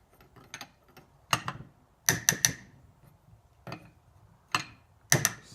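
Ratchet wrench tightening a power steering pump puller on a Dodge Neon, heard as short bursts of rapid metallic clicking in several separate spurts, close and fairly quiet, with no talking.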